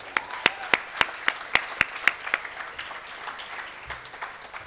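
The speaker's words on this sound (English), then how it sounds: "Give them a round of applause." A round of applause for the faculty at a school speech, with sharp, distinct claps over a softer bed of scattered clapping from a crowd, fading somewhat toward the end.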